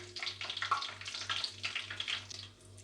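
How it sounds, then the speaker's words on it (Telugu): Whole spices sizzle in hot ghee and oil, giving bursts of crackling hiss over a steady low pulsing hum. The sound fades slightly near the end. "నెయ్యి ఆయిల్ హీట్ అయిన తర్వాత ఇందులోకి మనం మసాలా దినుసులు అన్నీ వేసుకోవాలి"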